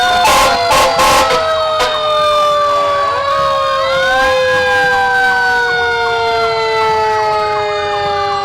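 Fire engine siren from Engine 1 of Billerica in a 4th of July parade, opening with blasts of an air horn, then a loud wailing siren that rises and slowly winds down, close and dominant throughout.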